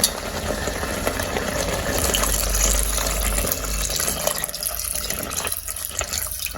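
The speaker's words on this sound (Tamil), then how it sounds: "இப்போ இதுக்குள்ள தேங்காய் பாலை சேர்க்கணும்" Coconut milk is poured into a pot of cooked rice and urad dal porridge, making a continuous watery splashing and trickling that carries on steadily throughout at a close, even level.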